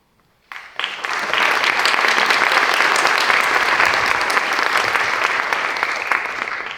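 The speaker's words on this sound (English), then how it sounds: "I love how much you're clapping." An audience at a film Q&A session at Southwestern College bursts into loud, sustained applause after a brief quiet start, the clapping dense and steady for several seconds before easing slightly near the end.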